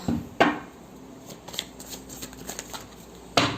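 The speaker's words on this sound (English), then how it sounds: "I just shuffle these cards more." Tarot cards being shuffled in quick riffling bursts, with sharp snaps at the start and end and softer flicking in between, close up.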